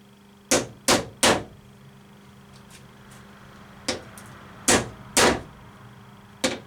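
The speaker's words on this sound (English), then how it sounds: "Get out the hammer." Seven sharp hammer blows ring out in a quiet room: three quick strikes, a pause, a lone hit, then three more spaced unevenly.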